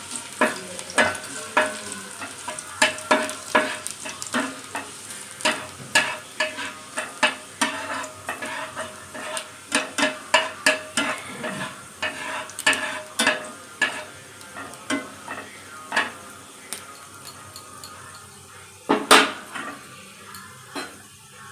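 Chopped garlic goes into hot oil in a pan and fries with a soft sizzle, joined by frequent scraping and clinking of a spatula stirring against the pan, close and with no voices.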